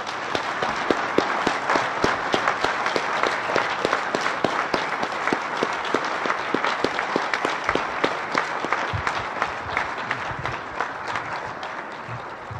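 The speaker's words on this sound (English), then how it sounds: "Thank you for the applause" An audience applauds after an evening lecture on nonviolence and the respondents' contributions. The clapping is sustained and dense, with individual sharp claps standing out, and it continues evenly for over twelve seconds before easing slightly.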